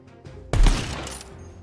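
A single sniper rifle shot fires in Tiny Tina's Wonderlands, a sharp loud crack with a booming tail that rings out for about a second over quiet game ambience.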